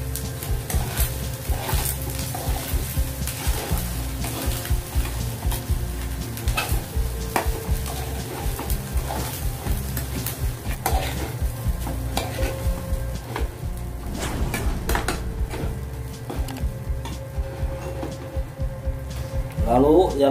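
Nasi goreng with shrimp and chicken is stirred and tossed in a frying pan, with steady sizzling under repeated scraping and clattering of a spatula against the pan. A voice talks over the cooking now and then.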